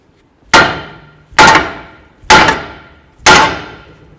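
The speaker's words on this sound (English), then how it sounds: "Now you're going to use your hammer, and you're going to hit right on the knuckle." Four sharp metallic hammer blows on a Ford Edge steering knuckle ring out at a steady pace, each loud strike decaying quickly before the next.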